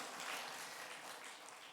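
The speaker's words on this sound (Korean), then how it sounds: "들어가실 때까지 우리 박수하겠습니다." A church congregation claps together after a sermon reading, a soft, steady wash of applause at a distance with no voices over it.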